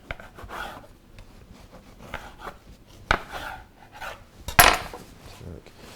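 A knife cutting and trimming the top of a handbag-shaped cake during decorating, giving soft, close scraping and tapping strokes with a couple of sharper knocks, and no speech over it.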